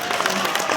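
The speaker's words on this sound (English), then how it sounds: "Give some round of applause for him." A magic convention audience in the Maldives claps and cheers for a magician after a rope or Rubik's cube trick, a brief, loud wash of close applause.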